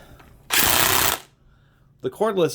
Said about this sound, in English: It's a much better impact wrench than those old orange-handled ones are.